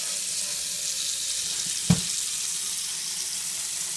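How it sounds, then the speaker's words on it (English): Cold water runs steadily from a faucet into a bonsai water bath, a constant close hiss and splash with one brief clunk partway through. "And then we just turn on some cold water,"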